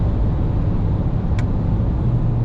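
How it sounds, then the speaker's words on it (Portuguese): A Ford Ranger Raptor pickup runs with a steady, loud, low exhaust drone heard from inside, holding evenly throughout with a brief faint tick midway. "Acho que o som do escape, pra gente que gosta de carro, é uma das coisas mais legais."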